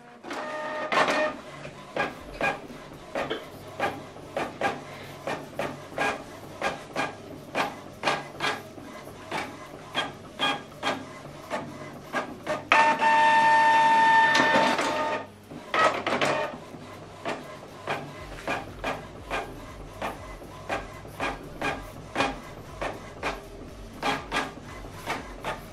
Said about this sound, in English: So this document, now we're going to print it on both sides.